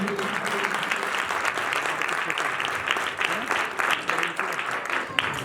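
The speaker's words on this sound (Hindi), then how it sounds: "जोरदार ताली देंगे प्रेज का" Church congregation clapping loudly in praise during a worship service, a steady, dense burst of many hands applauding together for several seconds without pause.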